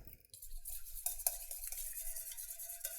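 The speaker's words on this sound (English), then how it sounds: "Let's whisk that together." A whisk stirring egg and vanilla batter for Japanese fluffy pancakes, with steady close scraping and light clinks against the bowl for a few seconds, no talk.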